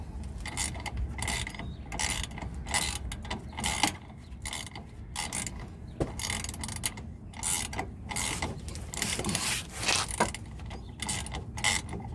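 A box wrench tightens a 17 mm bolt on a 2011 Crown Victoria, with a steady, busy run of ratcheting clicks and metallic mechanism noise going on close by for the whole stretch, and no voices.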